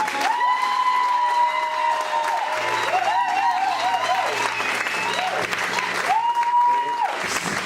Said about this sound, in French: mon jumeau Christian, si on peut applaudir pour lui.